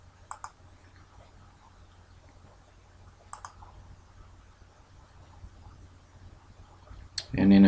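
A few sharp computer mouse clicks while operating CADWIND filament winding software, a double click near the start and another a few seconds later, faint and isolated against a quiet background.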